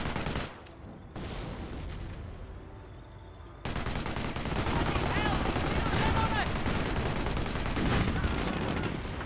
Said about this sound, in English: if the Vickers placement's going off like this, it can be hard to hear it